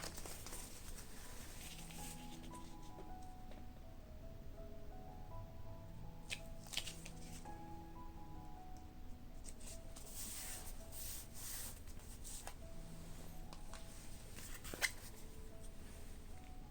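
A Cricut Maker or Explore cutting machine slices a thicker faux or genuine leather strip, giving quiet, steady rubbing and scraping with stepping motor whines that shift pitch as the carriage moves, and one sharp tick near the end.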